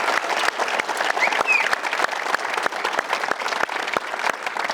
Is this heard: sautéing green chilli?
no